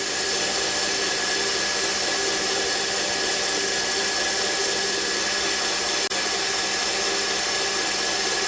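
A grinder runs continuously on a knife blade fitted with a 220 grit belt, a steady, even whine and hiss with no pauses and no talk.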